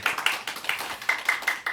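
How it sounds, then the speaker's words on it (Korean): A brief round of hand clapping from a small church congregation at a Sunday service, steady and fairly close, with no talking. "박수 한번 칠까요?"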